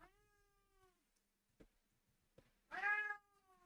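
A cat meows several times indoors: one drawn-out harmonic meow, a couple of short soft chirps, then a louder, rising meow close by, with quiet pauses between.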